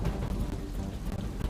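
Heavy monsoon rain in Gujarat pours down in a dense, continuous roar, steady and loud with no pauses.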